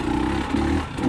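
A 2020 KTM 300xc TPI two-stroke dirt bike, recently drowned, runs in gear at low speed with a steady, loud, close engine drone and a slight clattery texture, with no talk.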